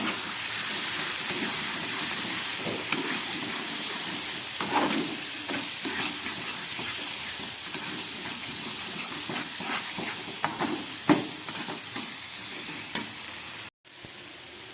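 Spice masala fries in a pan as tomato paste with two whole tomatoes is added for a mushroom curry, giving a steady, loud broadband sizzle with occasional stirring scrapes and pops throughout.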